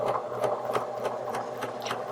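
A Pfaff Select 4.2 sewing machine stitches at moderate speed, with the needle tapping in an even, rapid rhythm over its motor whir, close and clear.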